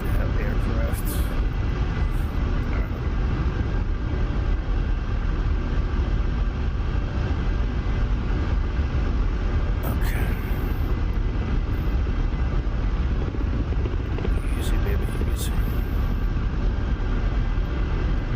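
Ka-50 attack helicopter in the DCS combat flight sim, a steady loud broadband rotor and turbine roar that runs unbroken for the whole stretch, with a few brief higher clicks and bursts riding on top.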